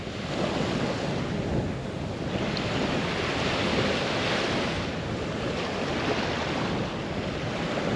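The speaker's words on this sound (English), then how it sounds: "It's a bit windy." Strong wind buffets the microphone over a roaring surf at a beach in Chania, Crete, a loud, continuous rush with no voices.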